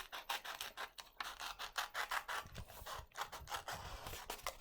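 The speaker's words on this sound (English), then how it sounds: "These scissors, and then you just start cutting out the crocodile." Scissors cutting out a paper crocodile, a steady run of soft close snips and paper rasping, quiet and continuous, with no talking.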